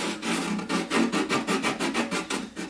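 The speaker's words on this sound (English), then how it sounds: "So basically I just kind of get in there and I'm able to sand" A round sanding tool works back and forth on wood, making a steady rhythmic rasping scrape with regular strokes, close and continuous, no talk.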